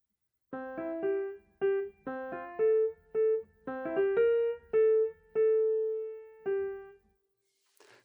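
Solo piano plays the closing four measures of the first A section of a Mozart minuet, a clear sequence of about a dozen sustained notes and chords in a steady, moderate rhythm, each ringing briefly before the next.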